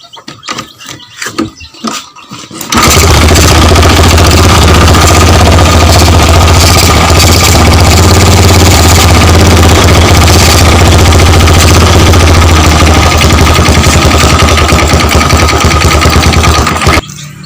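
A Honda motorcycle engine with a dry-coil ignition system starts after a few quiet seconds of knocking, then runs loudly and continuously near the microphone with a steady buzzing hum until it cuts off at the end.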